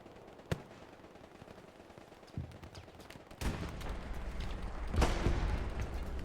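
Self-propelled artillery fires point blank during a competitive tank match on the Mortain map, several sharp booming shots with heavy low rumble over a steady background of battlefield noise.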